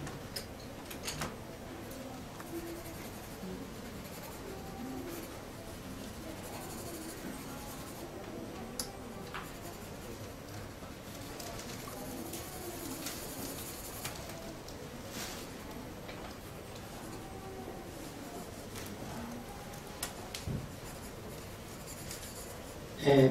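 Pastels and charcoal pencil scratch and rub across paper while a croquis is drawn, a continuous close, soft scraping with occasional sharper strokes and taps, without talking.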